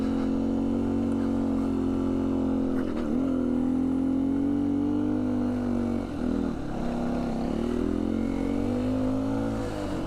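A 2019 Beta 125 RR-S dirt bike fitted with a 150cc Yamaha big bore kit runs at a loud, steady drone close by, with brief dips and revs as the throttle shifts on a trail.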